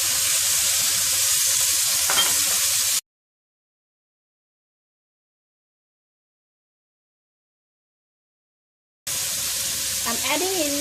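Mixed vegetables and prawns stir-frying in a pan for Chinese fried rice, a steady loud sizzle with faint stirring scrapes, broken by a long stretch of silence before the sizzling resumes.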